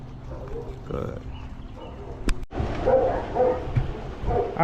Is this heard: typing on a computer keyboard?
no